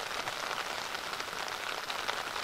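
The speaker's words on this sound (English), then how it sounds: "As you can hear, they're getting pounded by rain." Heavy rain pounding outdoors in a field during Pennsylvania deer rifle season, a dense, steady hiss of drops drumming on surfaces nearby, loud and unbroken with no voices.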